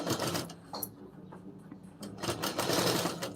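A sewing machine stitches a blouse lining in short bursts, its needle chattering rapidly and close up, with brief pauses and a louder run near the end, and no speech.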